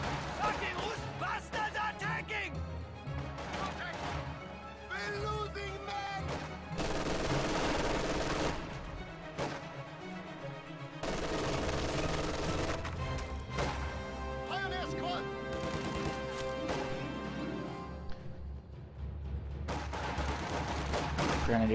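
An MG42 machine gun in a World War II strategy game match: rapid bursts of automatic fire and scattered battle gunshots keep crackling under a steady stream of commentary, moderately faint throughout.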